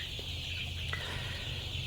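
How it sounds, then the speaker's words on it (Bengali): Egyptian Fayoumi chickens, about a month old, cluck softly over a steady background hum, with a few brief calls from the flock nearby and no talking. "আমাদের এখানে যে মুরগিগুলো দেখতেছেন"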